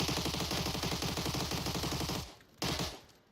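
Rapid automatic gunfire in a competitive video game as a player pre-fires a corner, a dense loud burst of shots for about two seconds, then a brief second burst before it stops.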